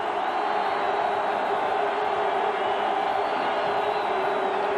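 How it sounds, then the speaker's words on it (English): A big crowd roars steadily from the closed end of a stadium at a 1988 Michigan vs. Miami college football game, a dense continuous wall of cheering with no breaks. "closed end of the stadium with that big crowd roaring"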